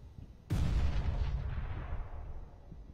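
A Counter-Strike: Global Offensive grenade detonates with one sharp, loud blast, and its rumbling boom trails off over the next couple of seconds.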